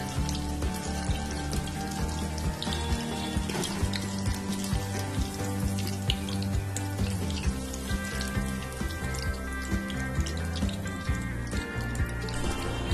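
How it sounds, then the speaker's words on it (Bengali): Baby corn pieces deep frying for a second time in hot oil, giving a steady crackling, bubbling sizzle with light popping, set against background music. "এগুলোকে আবার সেকেন্ড ফ্রাই করব, এই জন্য এগুলোকে আবার দিয়ে দিচ্ছি।"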